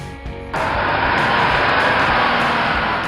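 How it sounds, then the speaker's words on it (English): A semi-truck rumbles loudly and steadily nearby after a short quieter lead-in, its broad engine and road noise holding constant throughout. "Semi-truck."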